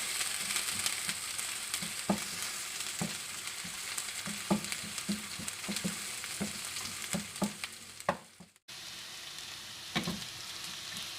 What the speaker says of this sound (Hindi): प्याज के साथ लहसुन अदरक को 2 मिनट तक भून लें।